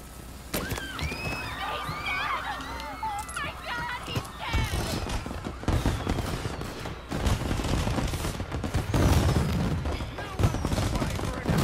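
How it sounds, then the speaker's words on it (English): Fireworks go off in the Mafia video game, a long run of rapid crackling pops and bangs lasting several seconds, fairly loud, with voices heard among the explosions. "And now for the fireworks, huh?"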